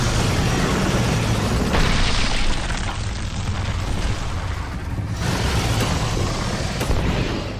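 Gunfire rattles in a video game aimed at a big spider, a dense, loud, continuous stream of booming shots with short bursts and pauses, no talking over it.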